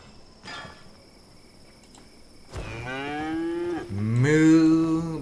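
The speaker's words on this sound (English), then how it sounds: "I so love the mooing of my ox" In the Albion Online video game an ox gives two long, loud moos close by, following a few quiet seconds with faint insect chirping in the background.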